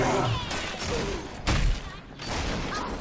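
Shotgun blasts from the video game Bioshock 2 boom out in a few heavy bursts over a busy, noisy game soundscape, loud and close.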